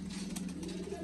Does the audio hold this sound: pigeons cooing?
yes